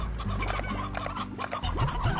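Chickens in a video game cluck in quick, busy bursts, several birds overlapping in a close, steady flurry of short calls lasting about two seconds.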